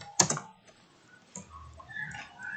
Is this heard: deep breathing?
no